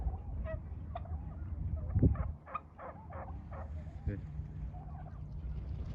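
Turkeys gobble on a farm in a run of quick, throaty bursts, one call after another over a low, steady rumble.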